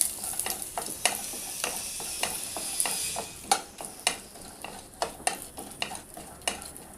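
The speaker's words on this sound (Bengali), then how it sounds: "তেল দিয়েছি এবার বাদামটা দিয়ে দেবো বাদামটা একটু ভেঙে রেখে দিয়েছি এবার বাদামটা নাড়াচাড়া করে নেবো" Broken peanuts fry in oil in a wok under a steady sizzle, punctuated by a regular series of sharp scraping and clicking stirs close by.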